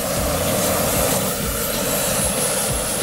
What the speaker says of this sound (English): And another smaller plane.